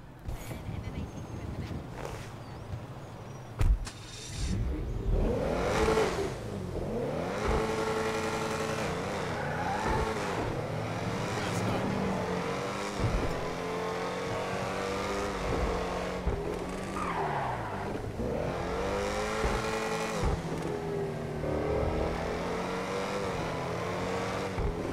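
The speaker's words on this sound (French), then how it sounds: "On va écouter le bruit du moteur." A high-revving Ocelot XA-21 supercar engine in GTA 5 Online whines up and down through gear changes, loud and continuous, with occasional tire squeals and sparse talk underneath.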